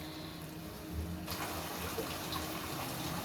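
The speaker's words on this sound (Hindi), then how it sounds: "यहाँ पे हम इसमें शामिल करने जा रहे हैं थोड़ा सा पानी, ताकि उस पानी में गल जाए।" Water pours into a pot of cooking chana dal, a steady gushing stream that swells louder after a moment and runs on evenly, heard close with no voices.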